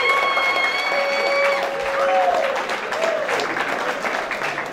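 Audience applause at a film cast presentation, a crowd clapping steadily throughout with a few cheers, while a voice carries on over it early on.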